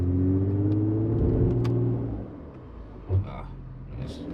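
A Mercedes C43 AMG engine rumbles and revs hard on a launch, its low drone rising for about two seconds before easing off, heard from inside the car with a voice speaking.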